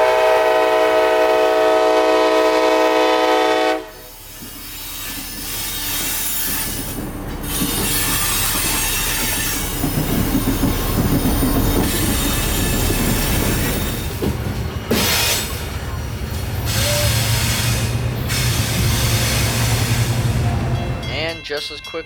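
A CSX local freight train led by a single ST70AH locomotive passes close by out of Winston Yard with rock loads. It opens with a loud sustained horn, then comes a long rumble of wagons with wheel squeal and clatter.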